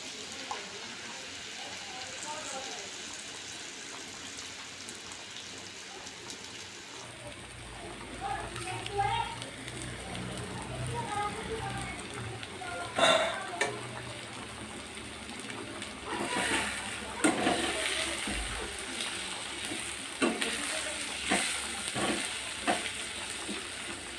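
Beaten eggs and chopped banana flower fry in a pan on a gas stove. A quiet hum gives way to a louder, crackling sizzle with intermittent scraping and clattering stirs, while a voice talks throughout.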